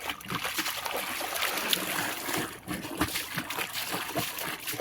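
A saree is rinsed by hand in a bucket of water, giving continuous close splashing, sloshing and dribbling with a few louder splats throughout.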